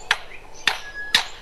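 A lyrebird mimics a hammer with three sharp, bright knocks spaced about half a second apart, each ringing briefly, with a thin whistled tone between the strikes.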